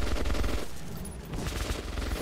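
Heavy automatic fire in the dark metro tunnels of Metro 2033, a loud, rapid volley that briefly eases, then resumes in a dense close burst.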